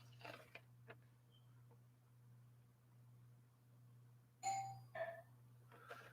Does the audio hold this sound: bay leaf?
no